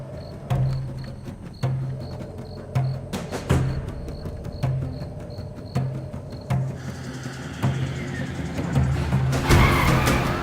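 A car brakes hard with repeated tire squeals and skidding bursts at a steady rhythm, closing in a louder rush of noise as it stops.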